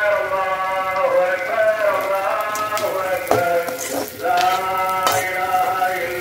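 Cashew nuts sizzle and crackle in a pan for an Eid sheer khurma, a steady frying hiss with occasional stirring scrapes, close and continuous, while a harmonic whine runs alongside.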